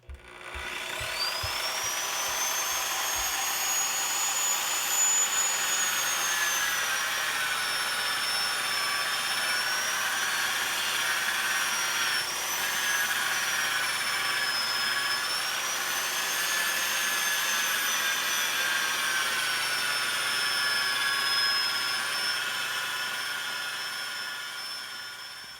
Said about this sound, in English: We're doing a final sand down to 3000 grit.